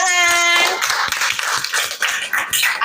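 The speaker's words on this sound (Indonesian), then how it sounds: "Tepuk tangan." A classroom of students claps hands together after a presentation, a dense burst of many overlapping claps filling the whole stretch at steady loudness, with a brief held voice tone at the very start.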